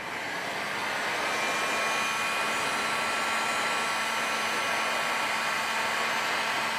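A heat gun shrinks heat-shrink tubing on a kayak leash with a continuous, loud airy roar and a thin tonal whine, swelling slightly in the first second and then holding steady and close, without any talking.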